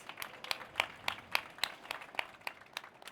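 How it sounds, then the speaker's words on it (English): Sparse clapping at an innovation stage event, about a dozen distinct handclaps in an irregular, quiet rhythm, sounding faint and distant rather than a full crowd ovation. "A big applause for Soraya, please."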